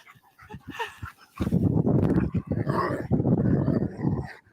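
Dogs make short yips and whimpers, then a louder, sustained stretch of dog sound through the rest of the clip, close to the listener.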